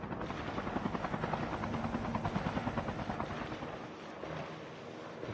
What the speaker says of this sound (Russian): На тебе вертолет